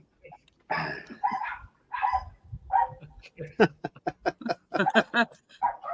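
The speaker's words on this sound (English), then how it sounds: "my dogs out there barking at my sister" Dogs bark outside in short, sharp bursts, mixed with close conversation and some chuckling.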